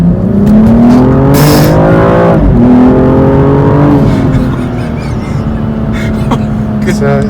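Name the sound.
BMW M235i xDrive car accelerating in sport mode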